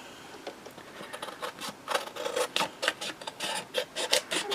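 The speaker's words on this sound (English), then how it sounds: "I'll just cut around here" Scissors snip and rasp close by while cutting around paper decorated with flowers, giving a quick series of short, rhythmic cuts that get slightly louder and denser toward the end.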